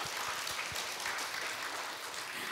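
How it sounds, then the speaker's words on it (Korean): A church congregation claps together in a steady, even wash of applause, heard from a distance and moderately loud throughout. "사랑과 격려의 박수 한번 쳐주세요"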